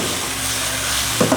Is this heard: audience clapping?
no